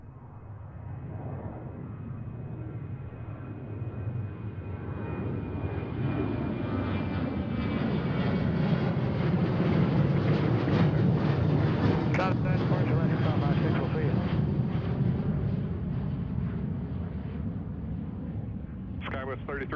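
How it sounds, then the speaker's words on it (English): An Alaska Airlines Boeing 737-900 takes off from Seattle-Tacoma, its jet engine roar swelling to a loud broad rumble mid-clip and then slowly easing, with a voice heard faintly over it. "We do have an Alaska flight going to Omaha right here. This is a 737-900."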